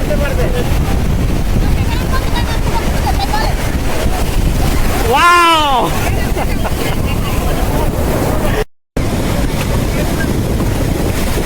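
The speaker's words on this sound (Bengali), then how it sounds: "এখন কি ঢেউ আসতেছে" Sea surf on the beach at Cox's Bazar roars steadily with wind buffeting the microphone, a continuous loud wash of breaking waves broken by a brief rising-and-falling tonal call midway.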